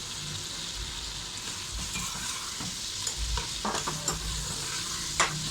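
Tomatoes and spices frying in a pan with ginger and garlic for aloo palak, a constant close sizzle broken by repeated stirring scrapes and knocks of a spoon.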